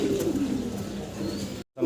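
A pair of Rajgolla pigeons, red-coloured desi Golla birds, coo close up in low warbling phrases, with a brief silent break before the cooing resumes.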